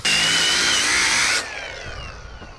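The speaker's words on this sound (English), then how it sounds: "You ever seen a cordless grinder cut 2x4s?" A cordless angle grinder cuts through 2x4 lumber with a loud, high whine that holds steady for about a second and a half. The disc then cuts out and spins down, leaving a fading, whirring coast-down nearby.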